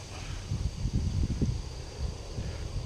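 Wind blows steadily through rambutan and durian trees in an orchard. It makes a continuous low gusting rush with soft leaf rustle and no talk.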